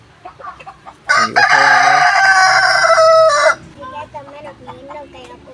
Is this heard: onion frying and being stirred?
no